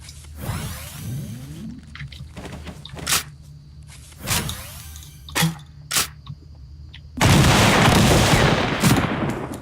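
A new pump shotgun fired in the Fortnite battle royale game, giving several sharp, separate blasts spaced a second or so apart against game background noise, followed by a sustained loud roar near the end.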